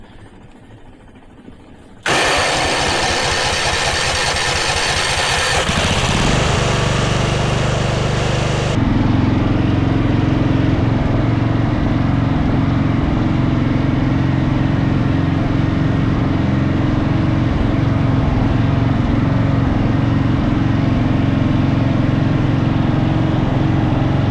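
After its carburetor needle seat is unclogged, a lawn mower engine catches and keeps running loud and close, a steady roar that shifts to a lower, rougher idle partway through, with no talking.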